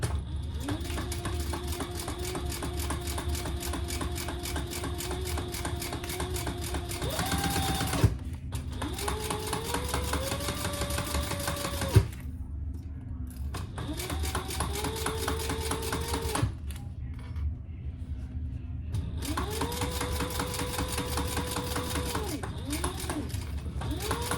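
A sewing machine top stitches a sling bag in long steady runs of rapid needle hum, pausing briefly between passes before starting again.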